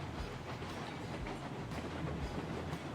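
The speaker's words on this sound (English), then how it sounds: "This is a very powerful engine, but that's a very heavy train," A powerful locomotive hauls a heavy oil train of six wagons in Railroads Online, giving a continuous low rumble with rhythmic clickety-clack of wheels over rail joints, close and steady without talk.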